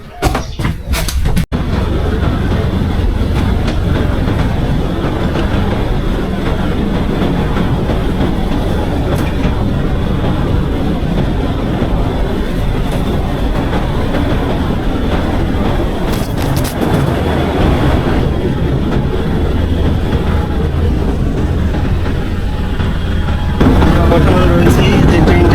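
Children's amusement park ride train at Aladin's Park in Dhamrai, Savar, running steadily with loud continuous rumble and rattling clatter heard from on board, with faint voices in the background.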